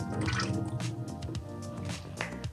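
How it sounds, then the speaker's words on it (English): Whole fish for a Cameroonian njangsa sauce being rinsed in cold water in a home kitchen, with steady splashing, dripping and sloshing close by and no talking. "And I'm using cold water to rinse the fish."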